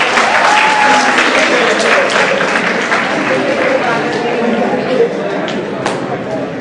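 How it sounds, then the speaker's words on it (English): Audience in a classroom session clapping together, a dense burst of loud applause that fades slightly toward the end. "Claps for her, please, once again."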